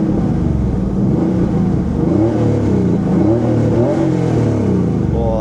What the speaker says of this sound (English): so we can hear this lovely air-cooled engine fire up.